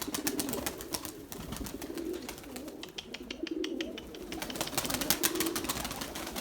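Erzurum white pigeons coo in a loft, soft repeated throaty coos rising at intervals against a busy background of other birds and faint rustling, with no talk.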